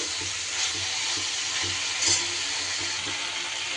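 Green chillies stir-fry in hot oil in a pan with a steady, fairly quiet sizzle and a few soft stirring scrapes, heard alone without talk.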